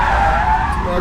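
Tires of a Cupra ETCR electric touring race car skid under heavy braking at a chicane, a short, loud, sustained squeal over road rumble.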